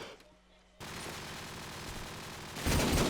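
Burst of AK rifle fire in a competitive first-person shooter match, a dense rapid stream of loud shots starting abruptly after a quiet lull and growing heavier near the end.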